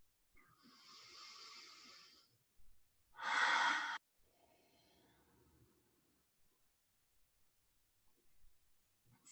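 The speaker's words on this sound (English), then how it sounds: "Continue to breathe here." Slow, deep breaths during a guided breathing exercise: a long airy inhale, then a louder, fuller exhale, followed by quieter breathing that fades toward the end, with no talk.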